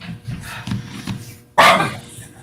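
Dogs barking indoors after a home alarm goes off, a few sharp, loud barks bursting out over a stretch of low rumbling background noise.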